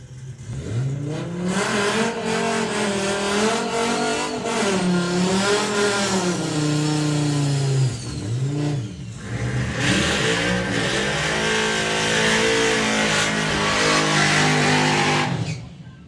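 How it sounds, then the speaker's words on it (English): A VW Passat and an Audi RS3 drag race cars accelerating side by side at a drag strip, engines revving loudly through gear changes with a brief dip mid-run, then a strong sustained roar. "So Rob Carter with Percy the Passat going alongside Dave Henderson with the Audi RS3."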